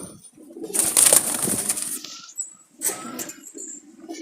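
Jalali pigeons cooing and shuffling close by, a burst of throaty cooing with fluttery movement, then a quieter second coo among faint rustling.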